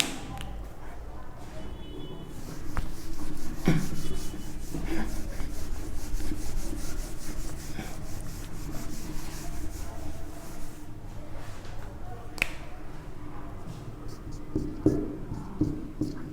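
A duster rubs writing off a board in a classroom-style lesson, with repeated scratchy wiping strokes close by throughout and occasional soft knocks.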